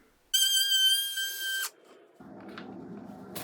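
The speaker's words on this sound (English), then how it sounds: "For routing the groove, a palm router works good." A palm router fitted with a keyhole bit spins up to a high, piercing whine for just over a second, then cuts off, leaving quieter shop noise and a faint rustle afterward.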